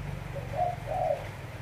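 Dove cooing, two soft low coos in quick succession, close and fairly quiet over a steady low background hum.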